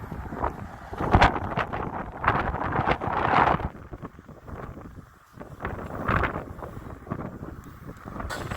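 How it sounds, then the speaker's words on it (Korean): Strong gusting wind at a construction site during crane work buffets the microphone in loud, uneven roaring surges that rise and fall with short lulls. "오늘 바람이 생각보다 많이 불어요"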